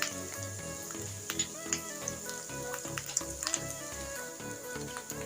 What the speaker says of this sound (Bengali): পেঁয়াজটা একটু ভেজে নিয়েছি